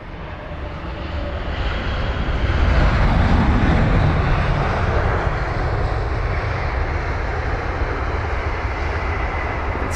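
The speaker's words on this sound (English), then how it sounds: "Oh, there is the second 787 in a row." A British Airways Boeing 787-9 Dreamliner lands at Heathrow with a broad, steady roar of jet engines. The roar swells to a peak and then holds at a loud, sustained level, with no talking.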